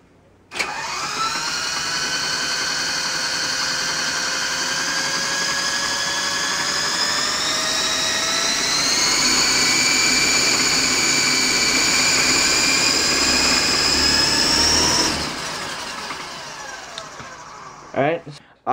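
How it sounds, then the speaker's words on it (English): A Double Horse 9053 RC helicopter's electric motor whirs steadily for about fifteen seconds, a close, loud, tonal whine that rises in pitch as the speed is raised, then spins down; a voice talks over it. "here is the helicopter. We're just going to turn this on and push this down all the way and turn this on."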